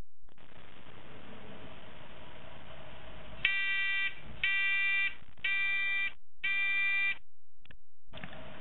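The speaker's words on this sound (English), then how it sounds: "We should also hear a piercing alarm sound from my third world buzzer." A piercing electronic alarm clock buzzer sounds in four sharp, evenly spaced bursts over a steady background hiss, followed by a couple of shorter clipped beeps.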